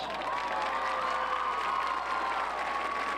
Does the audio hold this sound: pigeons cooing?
no